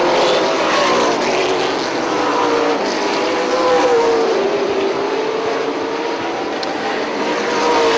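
Late model stock cars race around a short oval track, with a steady loud roar of several engines passing and overlapping continuously throughout.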